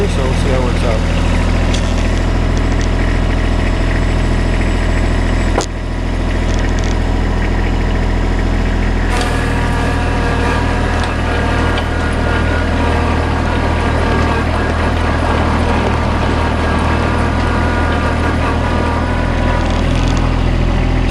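A tractor with a rear blade and chained, loaded tires plows snow on a gravel drive, its engine a steady, loud, close drone throughout, with a brief dip partway through.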